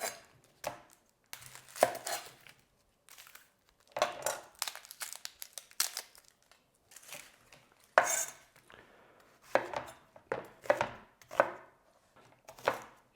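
Red onions being peeled by hand in a kitchen, with bursts of crisp crackling and tearing as dry outer skin comes away, separated by quiet pauses and occasional light knocks on a board.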